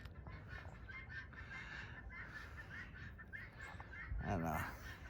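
Meat chickens cluck and call faintly over a constant rushing background noise, with a slightly louder burst near the end.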